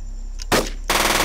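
Two sharp bursts of automatic gunfire ring out in the game UFO: Aftermath, loud and close, with a brief gap between them and no talk.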